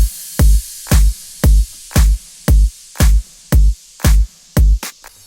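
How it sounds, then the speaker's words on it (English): Future funk drum pattern programmed in FL Studio: a steady loop of punchy kick and snare-like hits landing roughly twice per second, loud and dry with short tails, ending in a quick double hit. "Alright, first let's start with the drums."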